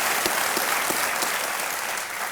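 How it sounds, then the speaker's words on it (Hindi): A studio audience on a television quiz show breaks into sustained applause for a player named Sindhu, a dense, even wash of clapping that holds steady throughout with no speech. "ओके, इसके लिए तालियां बज जाए सिंधु के लिए"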